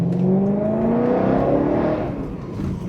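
A BMW E92 M3 with its V8 engine revs steadily from close inside the car, rising harmonic tones climbing and easing back over a low rumble, with no voices.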